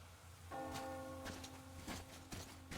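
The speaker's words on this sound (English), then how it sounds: "Do you hear that bell?" A bell rings in a Metro Exodus scene, sounding sustained resonant tones that start with a strike, then fresh strikes come in over a low, steady background hum.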